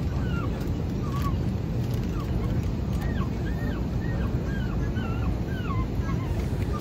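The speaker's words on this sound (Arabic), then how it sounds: "في 3 كلاب كلهم عمالين يصوصوا بالمنظر ده" Three dogs whine aboard an airplane in flight, their high, wavering, rising-and-falling cries repeating over a constant broadband hum of cabin and engine noise.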